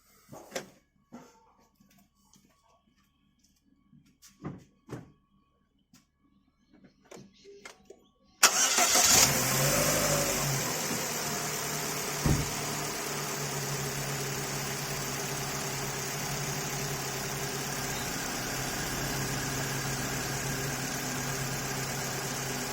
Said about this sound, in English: I'm just going to fire the car up and we'll give it a test.